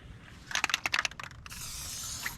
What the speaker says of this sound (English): you want to spray the hitch ball with some of this stuff here